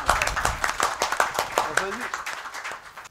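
An audience at a Hindko poetry recital claps in a quick, regular rhythm, with the claps close and lively while a voice carries on over them.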